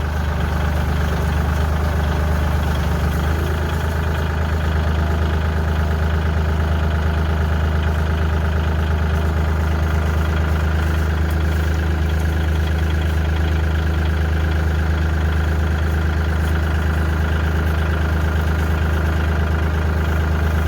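A tractor engine idles steadily throughout, a loud continuous low rumble with an even mechanical chug and no pauses.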